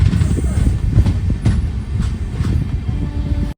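The Venkatadri SF Express, an LHB-coach train, rumbles steadily along the tracks, close and loud, with rhythmic clattering from the wheels throughout.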